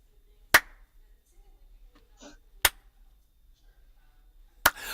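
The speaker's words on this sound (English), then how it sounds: "Super slow, super duck lips, slow, super duck lips clap." Three slow, crisp hand claps ring out roughly two seconds apart, each sharp and isolated against near silence, with a faint murmur between them.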